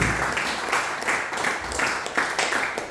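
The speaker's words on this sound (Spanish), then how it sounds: "Denle un fuerte aplauso a Jesucristo, por favor" Applause from a church congregation during a Spanish-language sermon on the Book of Acts, a steady wash of many hands clapping that swells and dips in waves across the whole stretch, fairly close and without talk over it.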